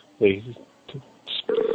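An outgoing telephone call rings through the handset, with short repeated ring tones in a quiet line, broken up by a person speaking between them.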